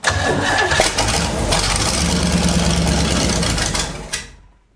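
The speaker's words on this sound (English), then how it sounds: "So ideally, I'll crank the key and it just fires up." A waterlogged vintage 1970s big block jet boat engine cranks briefly, then fires and runs at a loud, rough, steady roar for about four seconds before cutting out.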